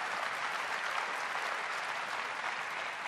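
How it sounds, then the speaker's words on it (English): Crowd cheers and applause in a music video game demo, a steady, dense roar of clapping and cheering that fills the whole stretch without a break. "And the crowd goes wild."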